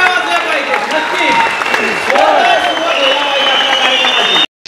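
An audience applauds during a lecture on Chhatrapati Shivaji's leadership, a dense, loud wash of clapping with a few cheers that holds steady, then cuts off abruptly near the end.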